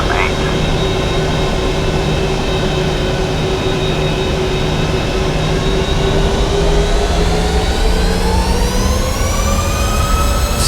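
The jet engines of a TUIfly airliner spool up for takeoff from the runway at Nice, a loud steady roar with whining tones that climb steadily in pitch, heard from inside the aircraft with speech underneath.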